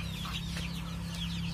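Hens on a desi poultry farm give soft, scattered clucks against a constant low hum, fairly close, with no talking.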